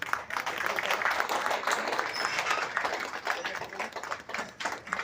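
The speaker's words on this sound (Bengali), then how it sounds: "সবাই একটু হাততালি দেবেন" Audience at a head clerks' annual general conference clapping together, a dense, steady burst of applause filling the room with uneven patter throughout, a few voices mixed faintly underneath.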